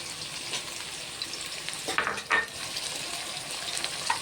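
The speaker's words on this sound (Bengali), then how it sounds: "একটু ভেজে নেব অল্প পরিমাণে।" Potato, cauliflower and carrot frying in a pan for vegetarian pasta, a continuous soft sizzle with a few sharp clinks of stirring near the middle.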